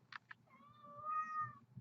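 A large pet cat gives a single drawn-out, rising-and-falling meow nearby, preceded by two short clicks, with soft background rumble.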